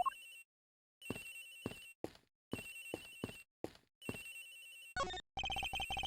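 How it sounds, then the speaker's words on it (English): A telephone rings in the Ace Attorney Investigations video game: repeated electronic ringtone bursts in a regular on-off pattern, clear and isolated, followed by a brief different chime and a faster run of tones. "Agent Hicks's phone! It's ringing from somewhere, sir!"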